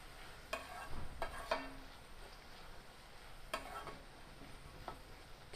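Kadvanchi wild greens and dal being sautéed in a pan, with a soft steady sizzle and a few spoon scrapes against the pan at irregular intervals.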